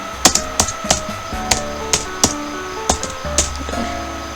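Quick, crisp keystrokes tap on a computer keyboard in an uneven rhythm, about a dozen distinct clicks close up with no talking.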